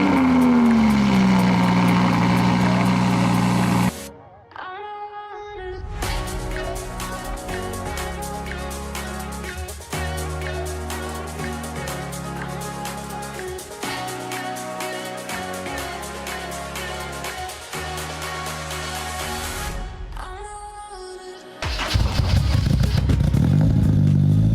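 A rebuilt Honda S2000 engine from a wrecked car cranks and fires, then idles with a steady rapid mechanical clatter up close. It drops out briefly before a loud rev at the end.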